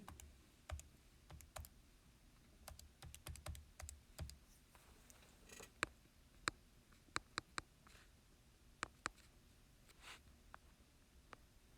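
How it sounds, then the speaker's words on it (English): Keystrokes on a computer keyboard tapping in an irregular burst, some keys struck harder than others, with faint soft handling noises between them and no talking. "So let's go ahead and type in our answer here."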